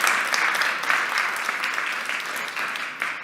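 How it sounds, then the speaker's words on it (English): An indoor audience at a community summit gives steady, moderately loud applause that lasts the whole short stretch, with no voices over it. "A round of applause for yourselves."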